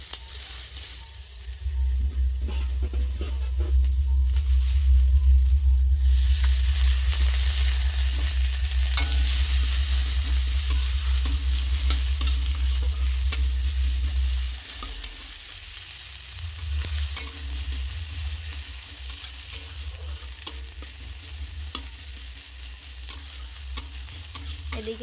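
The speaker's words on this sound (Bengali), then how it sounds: "এরপরে দেখো আমি পেঁয়াজটা দিয়ে দিচ্ছি" Onions sizzle loudly in a pan after green chillies, with frequent scraping stirs over a low steady hum, close and continuous without talk.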